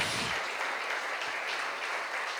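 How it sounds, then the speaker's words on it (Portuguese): A church congregation claps for Jesus during a service, a dense, steady wash of many hands that holds loud and continuous from start to finish with no voices over it. "Palmas bem fortes para Jesus, irmãos!"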